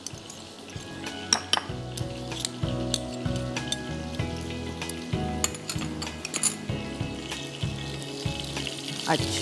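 Food hits a frying pan and sizzles steadily while metal utensils clink and clatter in rhythmic bursts in a kitchen, with a brief spoken word over the cooking noise.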